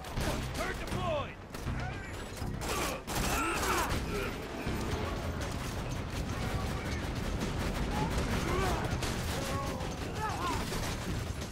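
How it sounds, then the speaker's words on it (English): A deployed turret in the Borderlands 2 video game fires over busy game noise, with repeated gunshots, mechanical clanks and creaks in a crowded mix, and a voice speaking intermittently. "Turret deployed."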